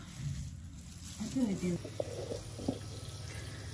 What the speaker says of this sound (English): I'm gonna dump this water in the sink.